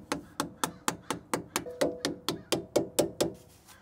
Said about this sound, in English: Put the plastic cap back on with some light hammering.